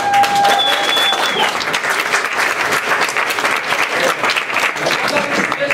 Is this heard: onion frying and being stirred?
no